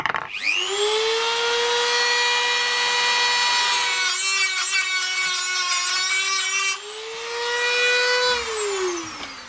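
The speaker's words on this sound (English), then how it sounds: "I'm going to grind the back off this stud here where it's been peened over" A power grinder whines steadily as it takes the peened-over back off a metal stud, its pitch dropping when it bites into the metal and rising as the load eases, loud and close.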